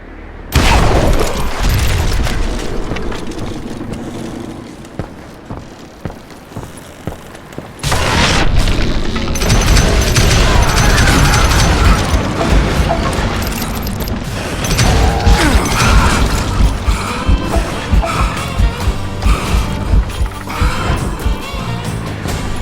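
Dynamite blasts and heavy booms in the Western shooter Call of Juarez Gunslinger, a loud burst at the start, a quieter lull, then a long stretch of rumbling explosions, crashes and gunfire.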